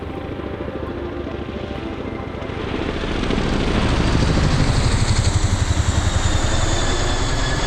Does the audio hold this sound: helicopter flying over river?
yes